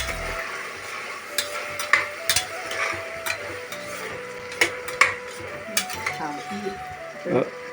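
Ingredients for kappa biryani are sautéed with salt in a pan, with repeated metal spoon scrapes and clanks over a soft sizzle, close and rhythmic, while a voice talks underneath.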